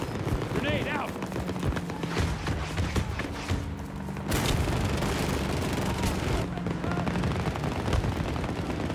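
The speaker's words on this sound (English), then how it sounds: "Grenade out!" Gunfire and explosions from a Battlefield battle, with a grenade going off amid dense, continuous shooting; a heavy boom hits about midway, and voices talk over the din throughout.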